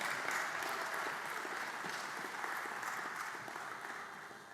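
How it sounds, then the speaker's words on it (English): An anniversary celebration audience gives the volunteers a round of applause, sustained crowd clapping heard from some distance that gradually tapers toward the end. "Thank you for a round of applause for our volunteers"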